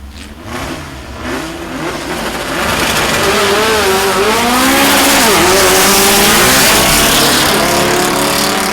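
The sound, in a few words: VW drag racing car accelerating down the strip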